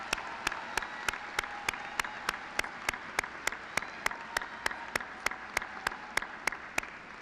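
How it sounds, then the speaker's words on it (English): A single person claps slowly and evenly, about three claps per second, during a high school commencement ceremony for honors students. The claps are close and crisp over a faint room hush. "Let us give a round of applause for our honors students."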